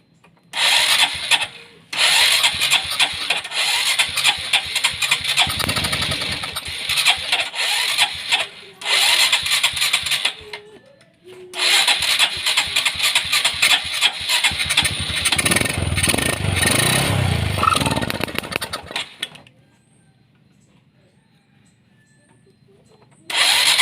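A Honda Supra X 125 motorcycle with a weak starter and a hard-starting fault is cranked over and over, giving loud grinding bursts of engine turnover broken by short pauses, then goes quiet.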